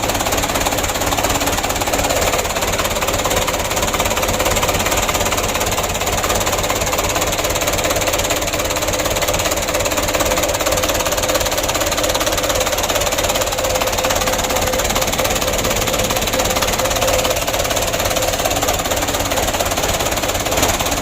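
Mitsubishi Canter 125 PS truck diesel engine running after a cold morning start, a loud, steady close clatter with a rapid knocking rhythm that holds throughout.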